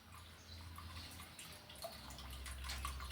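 Grape wine pulp and skins draining, with faint liquid trickling and scattered drips close by, quiet and steady with a low rumble underneath.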